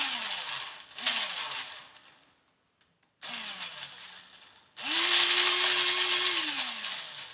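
Motorised model locomotive chassis with side rods running on the bench: short whining motor bursts that fall in pitch as they slow, a brief silence, then a louder sustained whir.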